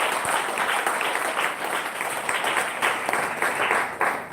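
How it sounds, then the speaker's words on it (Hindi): A church congregation claps loudly and steadily at a Sunday service, dense hand claps filling the room throughout with no voices rising above them. "जोरदार ताली बजाकर फिर एक परमेश्वर का स्वागत है"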